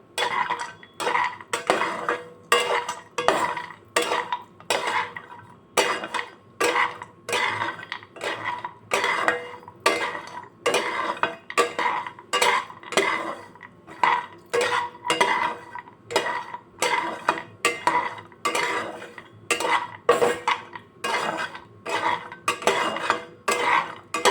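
Dry fruits roast in a pan while a utensil stirs them in a fast, regular rhythm of scraping and clinking strokes, moderately close, with no talking.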